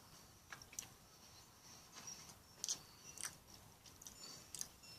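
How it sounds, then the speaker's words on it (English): Crisp crunching bites and chewing of freeze-dried peach from a 1987 US military MRE ration, several quiet, close crunches spaced irregularly, with no talking. "Let's try some of this freeze dried and not constituted peach. Very crispy."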